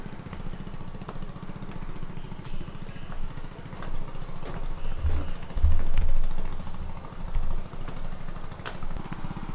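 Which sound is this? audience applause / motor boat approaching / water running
motor boat approaching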